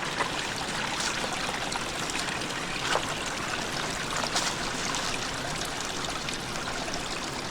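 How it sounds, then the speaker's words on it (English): A stream gurgles and trickles down a slope, a steady close rush of running water with small splashes throughout. "The water gurgling down the hillside here."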